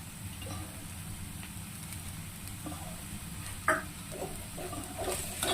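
Prawns fry in oil in a pan, giving a steady low sizzle at close range with a few brief clinks and stirring sounds over it.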